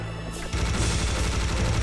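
Machine gun fire from Serious Sam: The First Encounter, in the Great Pyramid level against waves of skeletons, rattles in a rapid, steady stream of loud low thuds after a brief lead-in.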